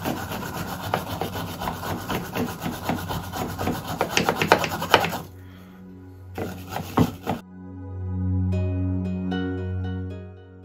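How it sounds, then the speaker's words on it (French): Scraping and rasping at an old corroded brass-free screw from a restored box, rough rhythmic strokes up close for about five seconds, then a few brief scrapes before a steady low hum takes over. "La corrosion s'enlève très bien."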